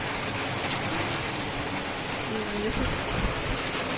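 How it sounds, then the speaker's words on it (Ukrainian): Heavy rain pours down outside, a loud, constant dense roar of falling water that fills the whole stretch without pause. "Ми не сумували за дощем. Я не встигла навіть прополоти, а він знову ліє."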